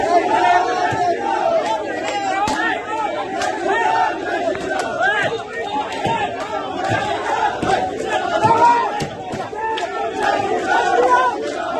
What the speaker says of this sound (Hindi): अरविंद केजरीवाल की क़यामगाह के बाहर तोड़फोड़ करने और पुरतशद्दुद एहतजाज करने वाले बीजेपी कारकुनों की भीड़